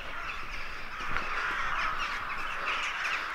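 A large flock of crows caws continuously over a medieval citadel in Sighisoara, Romania, a dense overlapping chorus of harsh calls from some distance with no voices.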